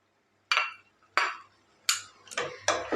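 A spoon scrapes and taps against a pan while carrot halwa with fried raisins and nuts is stirred, five distinct clinking strokes at a steady pace, close and fairly quiet.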